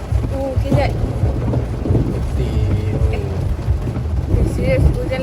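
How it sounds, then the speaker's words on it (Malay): Heavy rain pours down during a stay in Port Dickson, a steady dense hiss under people talking throughout. "Serius hujan lebat gila weh."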